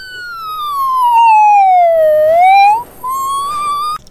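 A police car siren wails loudly and close, its pitch sliding down and then back up in a slow sweep with a brief dropout near the end.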